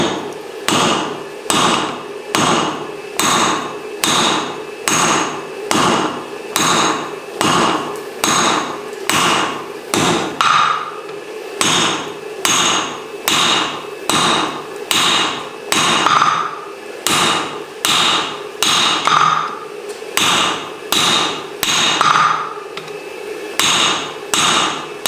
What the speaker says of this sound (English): and then hammer it flat